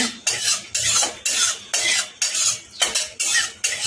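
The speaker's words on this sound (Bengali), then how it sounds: "কাজু কিশমিশগুলো একটু ভেজে নেব" Cashews and raisins frying in a pan, stirred with a utensil in a steady rhythm of about eight scraping strokes over a soft sizzle, close and fairly loud, no voices.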